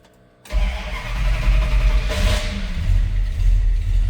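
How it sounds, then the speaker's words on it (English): A 1954 Dodge half-ton five-window pickup with an electric fuel pump is cranked indoors without choke. After a brief pause the cold engine fires and settles into a loud, steady, rumbling idle. "That's just crank her over and fire her up."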